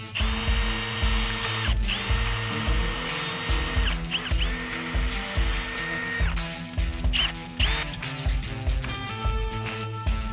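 A power drill bores through a stack of six or seven sheets at once while building an off-grid workshop, with loud sustained whining runs broken by short pauses and restarts, plus clunks of handling, up close with no talk.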